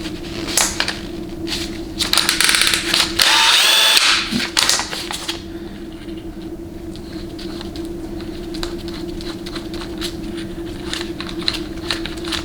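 A power drill spins a valve from a GM 700R4 transmission valve body, giving a loud whirring burst early on over a steady hum, then quieter clicks and rattles as the drill winds down.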